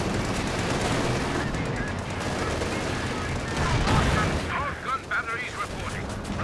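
Panther tank cannon and battlefield gunfire in Company of Heroes 2, with loud bursts and rattling shots over a constant roar while a voice talks over it.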